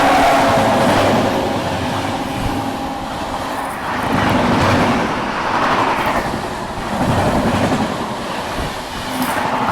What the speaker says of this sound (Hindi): देखिए अब सामने से कोई तो ट्रेन आ रही है ओवरटेक करने के लिए अपने को